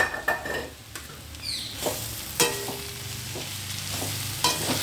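A spatula stirs cabbage and coriander leaves in a sizzling pan, with scraping strokes and light clicks over a steady frying hiss, close by and with no talk.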